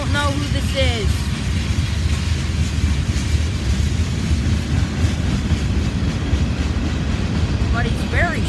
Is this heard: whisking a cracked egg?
no